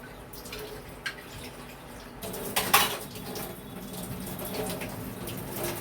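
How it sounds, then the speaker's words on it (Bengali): Shrimp muitha being stirred in a cooking pot, with close metallic clatters and scrapes of utensil against pot over a soft wet background, a louder cluster of knocks partway through. "নাড়িয়ে দিচ্ছি।"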